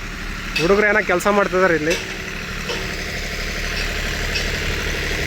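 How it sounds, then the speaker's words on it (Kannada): A generator runs at a new railway line construction site in Thimmarajanahalli, Tumkur, giving a steady low engine drone. Someone talks over it for the first two seconds, then the hum carries on alone. "ಇಲ್ಲಿ ಜನ್ರೇಟ್ರ್ ಆನ್ ಮಾಡಿದ್ದಾರೆ"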